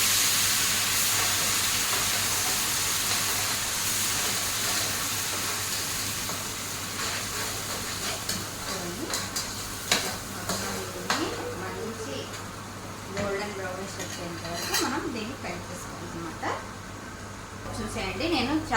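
Onions frying in a pan until golden brown, a steady close sizzling hiss that runs the whole time, with occasional clinks and a voice in the background.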